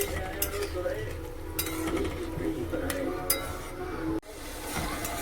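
A lid clinks onto a cooking pot of komal kankri (pointed gourd) as water goes in, with short metallic clinks and steady kitchen stirring noise close by.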